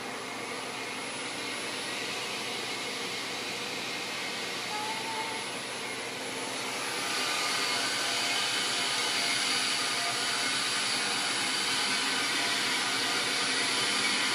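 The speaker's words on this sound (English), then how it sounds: "I'm going to go ahead and turn the lathe on half speed." A lathe motor on a CNC spindle setup, driven through a VFD, runs at half speed with a steady broadband whir that swells slightly louder partway through and holds, close and continuous.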